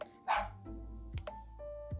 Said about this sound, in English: For whatever reason, he has the loudest bark.